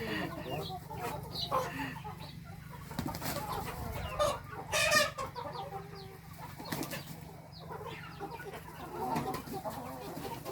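Fighting-breed roosters and hens on a farm cluck and squawk in scattered, irregular bursts at close range, with brief wing flaps and a low background hum.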